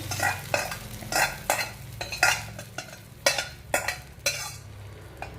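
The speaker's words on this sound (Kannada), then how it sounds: "ನೋಡಿ ಬೆಳ್ಳುಳ್ಳಿ ಒಗ್ಗರಣೆ ಹಾಕಾಯಿತು" Garlic sizzles steadily in oil for a tempering while a spoon scrapes and stirs in a pan, with repeated sharp clinks of metal against the vessel.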